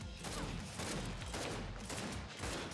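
Gunfire in the shooter game Gears 5 comes as dense, rapid, sustained shots, loud and unbroken across the whole stretch, with heavy low rumble beneath.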